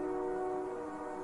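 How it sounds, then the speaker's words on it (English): Steady rumble of a train in a horror video game, a sustained horn-like tone running evenly through the whole short stretch with no voices. "That's the sound of the train."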